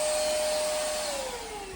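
Maircle S5 Mate cordless stick vacuum running with a steady, loud whine and airy rush, its tone gliding slightly lower near the end, heard alone and up close.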